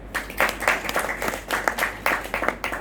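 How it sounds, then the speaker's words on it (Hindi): Teenage girls in a class at Mount Abu clapping for themselves, brief irregular bursts of applause from a small group, rising and falling in short waves. "वेरी गुड, अपने लिए ताली बजाओ।"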